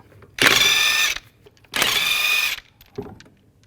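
A power tool with a 22mm socket removes lug nuts from a 2010-2017 Chevrolet Equinox wheel. It gives two loud, whirring bursts of under a second each, close by, then a brief third spurt.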